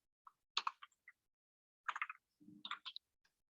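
A faulty computer keyboard during an online Python workshop, producing scattered sharp clicks and clacks in short irregular bursts against near silence, fairly close.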